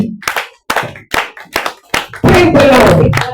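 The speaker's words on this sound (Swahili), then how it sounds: "Pigia Bwana Yesu makofi." A church congregation claps for Jesus, first in slow rhythmic single claps roughly twice a second, then breaking into loud, continuous clapping that fills the rest of the moment.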